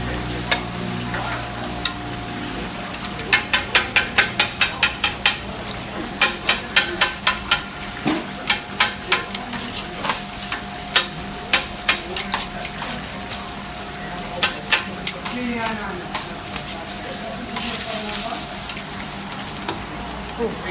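Chips sizzle and hiss steadily in a takeaway shop fryer, with rapid metallic scraping and clattering bursts over the frying and faint voices in the background.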